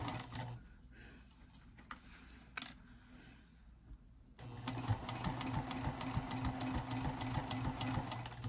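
A sewing machine stitches vinyl for a pencil pouch or wallet under a wide presser foot, starting with short bursts, then running steadily in a loud, continuous mechanical whir.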